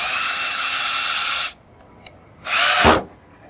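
A power drill drives screws into drywall being hung, whining loudly in a sustained burst of about a second and a half, then a short pause with faint clicks, then a second brief burst, close up and alone.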